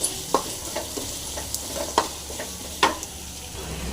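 Onions fry in a pan for a banana stem kootu, a continuous sizzle with a few sharp clicks and scrapes as they are stirred.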